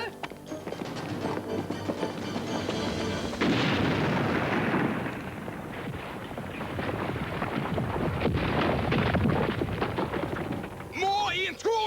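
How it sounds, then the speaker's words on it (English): A grenade blast in an action sequence, a sustained roaring, crackling burst of explosion and debris that stays loud through most of the clip amid rumbling battle noise, with shouted voices near the end. "It's the other grenade! The one James dropped!"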